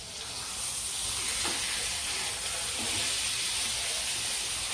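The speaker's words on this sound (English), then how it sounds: "I'm searing it and it's cooking on high" Steak searing in a hot pan on high heat, a steady loud sizzle and hiss throughout with faint stirring sounds, and no talk.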